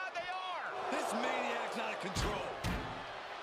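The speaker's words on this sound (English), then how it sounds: "sound of this crowd is deafening, and he's asking for more" Roaring crowd in a WWE SmackDown arena during a handicap match, a broad sustained wash of noise with loud thumping slams partway through and shouting voices rising over it.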